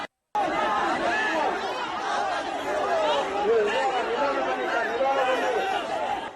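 A dense, loud crowd jostles and shouts inside Chinnaswamy Stadium during a stampede, a continuous roar of overlapping voices and yells filling the space after a brief silent gap at the start.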